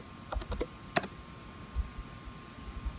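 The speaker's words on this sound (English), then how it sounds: "just type your password when prompted" A computer keyboard being used to type a password during a macOS High Sierra install on an unsupported Mac, a short burst of crisp keystrokes followed by a few scattered taps over quiet hum.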